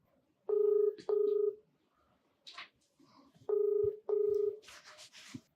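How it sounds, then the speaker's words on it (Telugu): A touch-tone telephone dials out, with four clear beeping keypad tones in two quick pairs separated by a short gap of faint shuffling and rustle. "డాక్టర్ గారు కాల్ చేస్తానండి."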